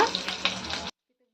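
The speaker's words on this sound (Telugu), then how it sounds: "ఇప్పుడు ఇందులోకి కరివేపాకు వేసుకుంటున్నాము" Curry leaves drop into hot oil for a tempering, bursting into a loud, close crackling sizzle that cuts off abruptly just before the end.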